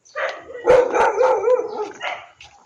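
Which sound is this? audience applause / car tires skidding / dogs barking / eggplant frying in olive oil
dogs barking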